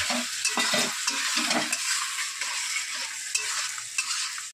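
Chili chicken sauce stir-fried in a pan, a steady bright sizzle with scraping stir strokes and soft clinks recurring close up, no voices.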